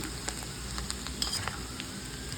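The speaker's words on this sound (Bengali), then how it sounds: "ভিন্ডিটা ভাজি করলাম" Okra (bhindi) frying in a pan gives a steady, close sizzle, with faint pops and light clinks of a utensil scattered through it.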